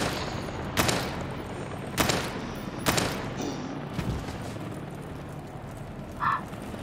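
Machine gun fire in Daymare 1998, a few separate loud bursts spaced about a second apart, each a sharp crack with a booming tail, over a low rumbling game background with no talk.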